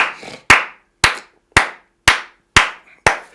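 A church congregation claps in unison during praise to Jesus, six sharp, evenly spaced claps about half a second apart, loud and close with no talking.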